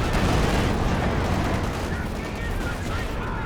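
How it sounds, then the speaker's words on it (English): A Stuka rocket barrage in Company of Heroes 2 pounds down as a dense, continuous roar of blasts and rapid gunfire, loud and sustained, easing slightly toward the end. "Stuka barrage over here"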